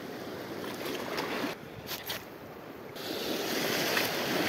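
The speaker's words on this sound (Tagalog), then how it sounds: "Medyo malakas ang alon master." Steady wash of strong, choppy waves and surf noise at a fishing spot, broadband and continuous, with a brief dip midway before the rushing swell returns louder.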